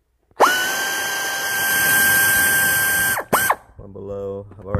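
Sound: power tool removing T30 bolts from throttle body

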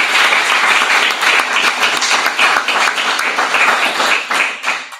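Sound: audience applause after a lecture

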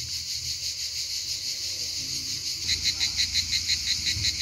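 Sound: chorus of cicadas singing in trees in a park in Italy

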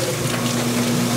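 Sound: water flowing from a pump through CPVC pipe

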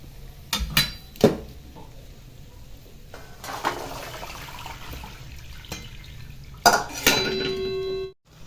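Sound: draining soaked green peas and adding them to the tempering

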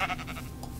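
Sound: sheep bleating in the video game Minecraft

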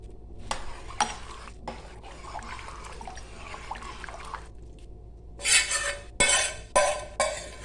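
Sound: adding and stirring fried masala into simmering chicken soup

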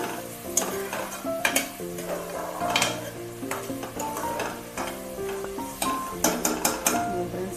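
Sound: onions frying and being stirred in a pan

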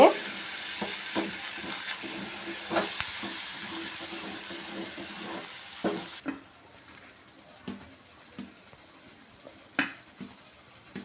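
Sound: Indian jamun fruit gojju boiling in a pot

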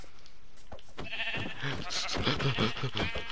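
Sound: sheep bleating in the video game Minecraft

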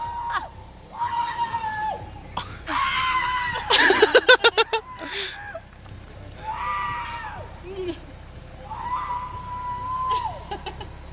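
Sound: people screaming on a slingshot ride

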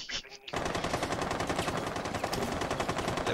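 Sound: light machine gun firing in a video game

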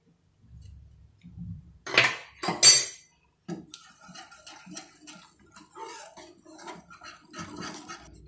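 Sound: continuously stirring chocolate cocoa drink in a pot

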